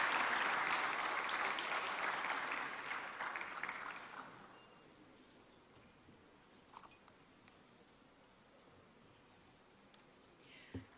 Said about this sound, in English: A round of applause for this symbolic signing.